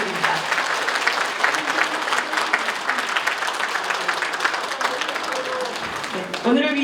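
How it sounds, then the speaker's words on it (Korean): An audience at a Korean political event claps in a dense sustained round of applause, loud and steady throughout, with a brief louder swell just before the end. "좋은 말씀 해주신 성호 스님께 다시 한번 큰 박수 부탁드립니다."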